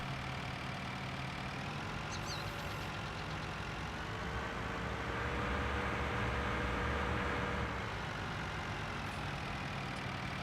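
Tractor engine idling in the video game Farming Simulator 19 on a John Deere farm, a steady low rumbling drone that swells slightly midway, with a faint click or beep early on.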